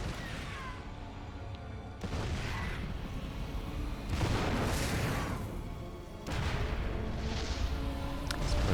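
Siege tank artillery in a StarCraft 2 Terran-versus-Terran match, heavy booming shots landing in a dense, continuous battle wash with several loud bursts spread across the span.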